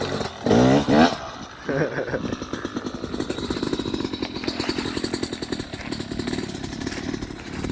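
A Yamaha YZ250 two-stroke dirt bike wheelieing up a hill in a paddock, its engine buzzing and revving hard after a brief loud burst, then holding a rough, rattling drone that fades as it climbs away.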